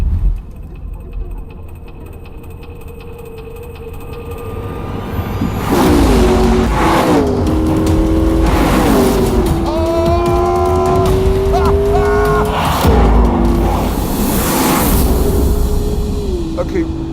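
Hybrid car driven very fast, its electric motor working with a big V8 generator: rising and falling engine tones build from a quiet start into a loud sustained run with shifting pitch, some tire noise and a voice talking over it.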